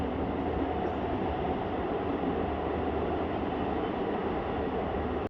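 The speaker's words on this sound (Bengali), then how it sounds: "টানেলের ভিতর দিয়ে এখন ট্রেন আমাদের ছুটে চলেছে" A passenger train on the Srinagar to Jammu line near Banihal runs through a tunnel, making a loud, constant rumbling roar with steady wheel noise that cuts off abruptly at the end.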